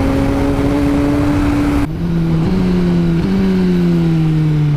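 A Suzuki GSX-R1000R motorcycle engine drones loudly and steadily, with a sudden pitch drop and quick blipped shifts from the auto-blipper, heard up close under strong wind noise.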